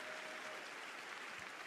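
Audience applause at an evening political event, a steady, soft wash of many hands clapping at a distance, continuous and even throughout without a clear start or stop.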